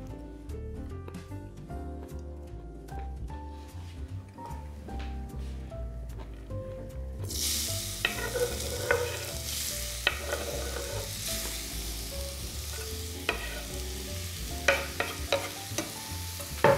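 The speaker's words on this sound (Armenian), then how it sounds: "Քերած գազերը տապակելու եմ բուսայով։" Grated carrots frying in a few drops of hot oil in a pan, a steady sizzle that swells sharply partway through as the carrots go in, with stirring and clattering utensil sounds close by.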